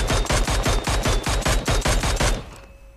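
Automatic gunfire in a shooting game: a rapid, evenly spaced burst of about fourteen loud, close shots lasting over two seconds, then cutting off into quiet background.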